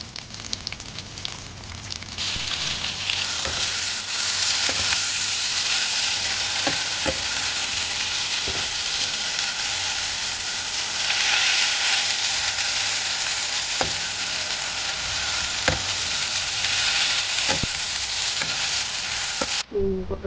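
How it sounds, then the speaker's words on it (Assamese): Sliced pointed gourd (potol) fries in hot oil in a pan, giving a steady loud sizzle and crackle for about twenty seconds with occasional stirring clicks and no speech. "পটলখিনি ফ্ৰাই কৰি ল'ব লাগিব।"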